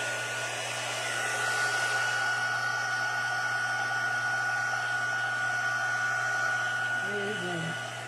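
A heat tool blows a steady, loud whooshing hum as it heats ink on Christmas-themed paper, running continuously throughout with a faint tonal whine, and brief soft sounds near the end.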